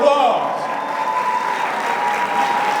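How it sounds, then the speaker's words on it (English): Steady, loud audience applause greeting a guest at an anniversary gala, a dense sustained wash of many hands clapping together with crowd murmur mixed in throughout. "Let's give him a round of applause"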